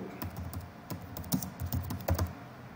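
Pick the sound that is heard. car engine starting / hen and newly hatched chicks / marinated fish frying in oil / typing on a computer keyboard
typing on a computer keyboard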